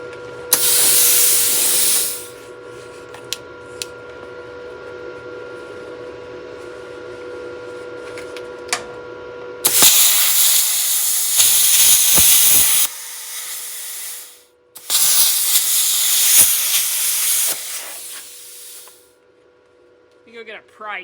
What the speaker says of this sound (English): You probably can't hear that over the sound of the plasma cutter